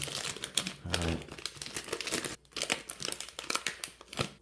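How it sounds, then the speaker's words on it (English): Plastic wrap is crinkled and torn away from a boxed Tom Ford Ombre Leather perfume, a dense run of close crackling and rustling with brief pauses and no speech. "All right, we got it out of the plastic."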